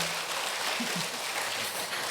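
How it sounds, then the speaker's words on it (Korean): Steady applause from a church congregation for the high school youth group and their teachers, a dense, even wash of clapping at moderate level filling the room with a faint low voice underneath. "우리 고등부 친구들과 교사분들에게 응원하는 박수, 하나님께 영광의 박수 올려드리겠습니다"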